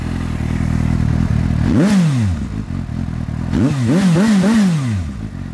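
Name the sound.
Suzuki GSX-S750 inline-four motorcycle engine revving, Yoshimura exhaust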